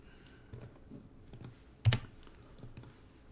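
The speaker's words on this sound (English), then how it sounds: "So let me type this one." Keys on a computer keyboard tapped in a sparse, irregular sequence of soft clicks, close and quiet, with one louder keystroke standing out midway.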